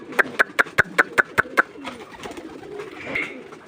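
Racing pigeons raised for flying contests coo at home. A quick run of about eight sharp, evenly spaced taps opens the clip, then soft cooing and low chatter follow close by, with faint talk in the background.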